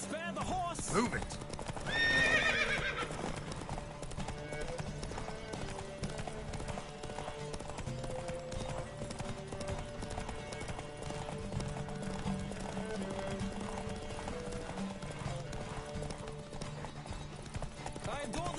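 Galloping horses in a Witcher 3 race, with a steady clip-clop of hooves and a loud whinny near the start, heard up close under music and game sounds for the whole stretch.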